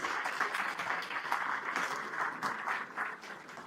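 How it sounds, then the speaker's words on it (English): Students applaud at a Thapar Institute of Engineering & Technology ceremony, a steady, dense crowd clapping that swells and eases slightly, continuous throughout with no voices. "Dear students, please clap your hands."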